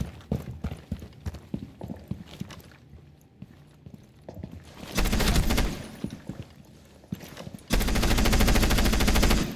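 Video game gunfire comes in two long, loud bursts of rapid automatic shots, separated and preceded by scattered single shots, clicks and footsteps.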